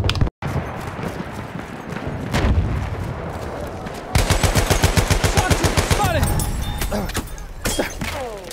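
Battlefield 1 gunfire around a headshot: dense rapid automatic fire and heavy shots crackle loud and close for several seconds, with rattling bursts and scattered impacts throughout.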